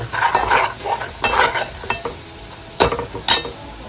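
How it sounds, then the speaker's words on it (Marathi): Ground masala paste being fried and stirred in hot oil, with a soft sizzle broken by several scraping stir strokes that come in bursts, close by and fairly loud. "छान तेलात वाटण परतून"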